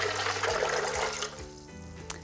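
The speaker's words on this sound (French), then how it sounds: "vous mettez les amandes dans le bol en inox, vous rajoutez l'eau" Water poured onto almonds in the stainless steel bowl of a plant-milk maker, a close, loud gushing splash that tapers off into quiet drips and a small clink.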